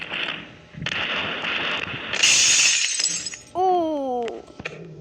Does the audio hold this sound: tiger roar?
no